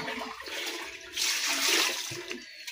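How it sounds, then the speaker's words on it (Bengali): Water rushes and gurgles in a home bathroom, a toilet-flush-like surge that swells in the middle and then trails off, heard close and alone. "বাবা আবার বাথরুমে জল দিয়েছে না"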